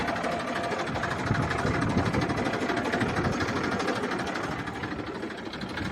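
A Massey 245 tractor engine idles close by, a steady rapid chugging pulse that holds an even rhythm and loudness throughout.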